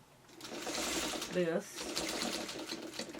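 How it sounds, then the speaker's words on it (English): A sewing machine runs a wide basting stitch through fabric in a steady rapid whir, close and fairly loud, while a person talks over it. "I'm going to run a quick little basting stitch over it, and I'm going to put the stitches wider so you can see what I'm doing"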